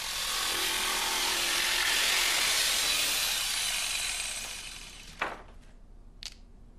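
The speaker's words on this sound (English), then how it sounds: "Cut along these lines with the jigsaw," A jigsaw cuts steadily through a wooden parquet floorboard with a loud buzzing rasp for several seconds, then stops, followed by a couple of short knocks.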